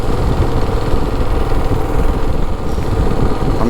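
A vehicle engine pulls steadily in second gear up a hill on a farm track and tar road, its loud, continuous drone holding throughout with no pauses.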